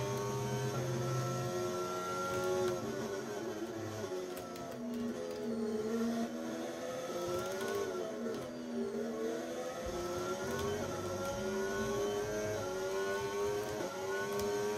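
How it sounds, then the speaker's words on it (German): Formula 1 car engine in an F1 video game at the French circuit, a continuous high-pitched whine rising and falling through gear changes and braking, steady and loud throughout with no talk. "Das Auto bremst aber ganz schön hart, wenn man einmal bremst."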